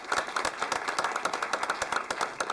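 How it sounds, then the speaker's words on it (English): At a county council meeting, a small audience applauds with a crisp, rapid patter of individual claps, steady and moderately close throughout. "So a round of applause"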